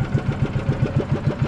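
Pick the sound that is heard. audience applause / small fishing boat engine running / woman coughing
small fishing boat engine running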